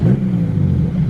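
A 550 hp Nissan Skyline R32 drift car engine holds a loud, steady high-rev drone throughout, with no pause or talk.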